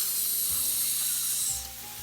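Mushrooms pressed down and searing in a hot pan give off a steady, fairly faint hiss and sizzle, with a few soft scraping touches and no talking.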